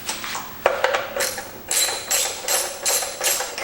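A socket wrench worked on a 1969 Yellow Patio parts tractor, giving close metallic clinks followed by several short ratcheting bursts in an uneven rhythm.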